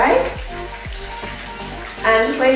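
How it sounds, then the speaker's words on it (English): Steady sizzling and crackling of chicken frying in hot oil, fairly close, with a few brief low thumps and a louder burst of spitting near the end. "need to wait for the chicken to fry"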